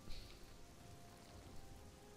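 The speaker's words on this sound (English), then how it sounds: "Still raining for some reason." Rain falling in the modded video game Oblivion, a faint, even hiss of rainfall with soft patter, steady and distant-sounding throughout.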